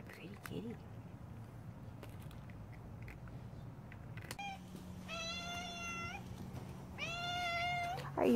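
A stray cat gives two drawn-out, loud meows close by, each lasting about a second, after a stretch of quiet rustling and soft low hum.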